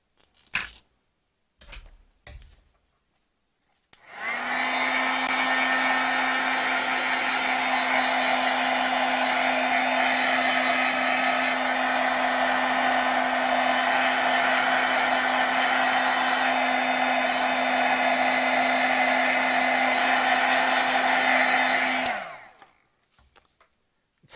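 A handheld heat tool drying stamped ink blows with a steady loud whirring hum for about eighteen seconds, then cuts off, with brief clicks before and after.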